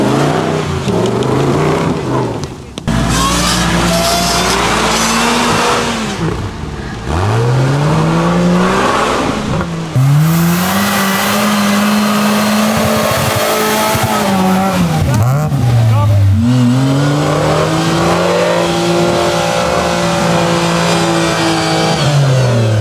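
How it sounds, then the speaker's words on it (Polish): Off-road cars ploughing through mud in a rally: loud, close engines rev hard and repeatedly, their pitch swooping up and down as they strain and accelerate. "samochody przejeżdżają przez błoto"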